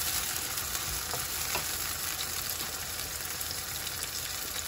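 Finely chopped sweet tomatoes fry in a pan, a steady, fairly soft crackling sizzle with faint stirring ticks and no voices.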